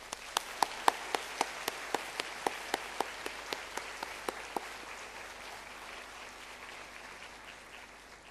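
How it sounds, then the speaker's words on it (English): An audience at a graduation ceremony applauds its lecturers. Sharp, evenly spaced claps stand out over a soft, continuous wash of clapping that slowly thins toward the end. "Let's give them a round of applause."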